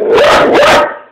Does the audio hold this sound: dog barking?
yes